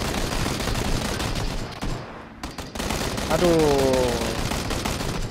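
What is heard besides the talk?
gunfire in PUBG video game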